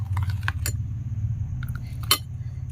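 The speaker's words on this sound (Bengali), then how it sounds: "দুধটা দেওয়ার পরে আমি আবারও খুব ভালো করে মিশিয়ে নেব" A spoon stirs biscuit dough with milk in a bowl, giving a few sharp metallic clinks and taps against the bowl over a soft, low background hum, with no voices.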